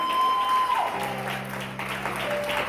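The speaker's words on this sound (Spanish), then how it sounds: "En un aplauso al Señor esta mañana." A church congregation applauds during a service, clapping under sustained tones from music or an organ, moderately loud and steady throughout.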